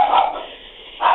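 Dogs barking at a home, heard faintly down a phone line: two short bursts of barking, one at the start and another near the end, with a quieter stretch between.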